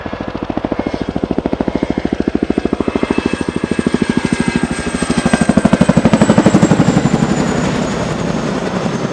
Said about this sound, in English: the aircraft will now be run out to the right and pull up into a pedal turn to the right